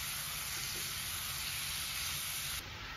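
Chicken meat sizzling in a pan of masala, a dense continuous hiss and crackle that stays loud and steady throughout, with no voices.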